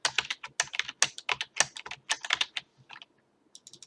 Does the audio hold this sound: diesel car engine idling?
no